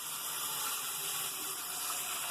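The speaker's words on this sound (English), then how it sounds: "I get a pan and I fill it with water" Tap water runs steadily into a kitchen pan, a continuous even rush of filling water, fairly quiet and with no talk.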